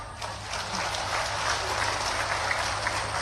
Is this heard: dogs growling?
no